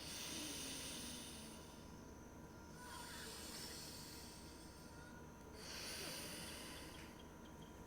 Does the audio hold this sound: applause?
no